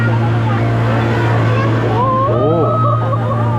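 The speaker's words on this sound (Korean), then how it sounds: "맞은편에서 이제 보트가 오는군요." A passenger boat approaching on a river in Surabaya, Indonesia, rises as a steady motor hum under continuous engine drone, with voices chattering nearby throughout.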